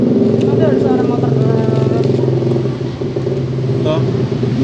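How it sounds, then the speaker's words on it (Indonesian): A motorcycle engine rumbles loudly nearby, its drone dipping slightly as it passes, with a voice briefly audible over it. "Ada suara motor."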